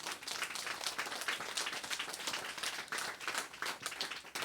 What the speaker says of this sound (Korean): 하나님께 박수 한번 올려드릴까요?